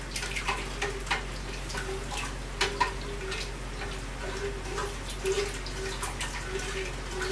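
Tap water running steadily into a sink or container during salmon brine preparation, a constant rushing wash with small clinks and knocks on top; a voice is faintly present.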